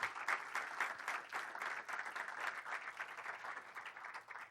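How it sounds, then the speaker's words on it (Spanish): A church congregation claps together in a steady, continuous wash of applause, moderately distant and even throughout, with no voices rising above it. "dele palmas al Señor"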